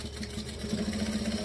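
A sewing machine runs steadily, stitching a fabric welt piece, with a continuous close mechanical hum and rapid needle rhythm throughout and no talking.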